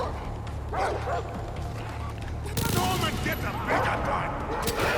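Dog barks in Far Cry 3 gameplay, several short yips and barks mixed with rapid bursts of gunfire that grow louder midway, with someone talking over the action.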